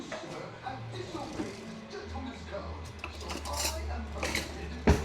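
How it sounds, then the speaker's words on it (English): A small spoon clinking against dishes while dinner is served at home, a few scattered metallic taps and clatters at moderate level, mixed with a low hum and some talking. "So let me grab a little spoon."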